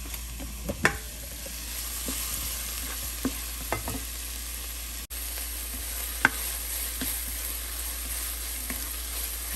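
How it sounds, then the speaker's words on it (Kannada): Ginger garlic paste frying in a pan, a steady faint sizzle running throughout with a few scattered sharp ticks and scrapes of stirring. "ಜಸ್ಟ್ 1 ನಿಮಿಷ ಹಸಿ ವಾಸನೆ ಹೋಗೋ ತನಕ ಫ್ರೈ ಮಾಡ್ಕೊಳ್ಳೋಣ, ಸಾಕು"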